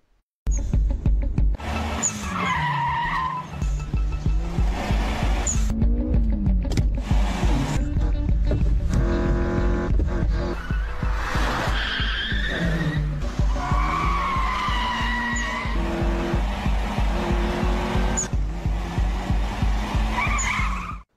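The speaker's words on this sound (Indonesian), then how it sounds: "dan balapan pun terjadi." Cars in a Japanese mountain street race, including a Toyota AE86, skid and squeal their tires over roaring engines. Loud, repeated screeches rise and fall across about twenty seconds, layered with film soundtrack.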